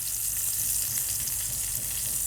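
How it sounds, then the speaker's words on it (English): A NY strip steak sears in a hot pan, giving a loud, steady, unbroken sizzle throughout with no talking. "resist the temptation to move that steak around. The first 2 minutes are crucial for a good sear"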